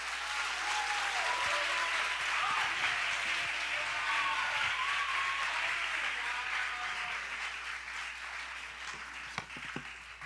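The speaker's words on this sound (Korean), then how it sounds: "이 시간 그래서 사랑과 축복의 마음을 담아서 박수로 환영하겠습니다." An audience at a worship conference applauds to welcome a guest speaker, a full sustained wash of clapping from a large crowd that gradually thins toward the end.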